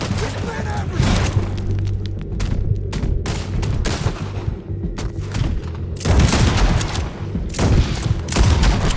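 Gunfire in the video game Red Dead Redemption 2, rapid overlapping gunshots and booming bursts in a loud firefight, with shouting voices over the shots.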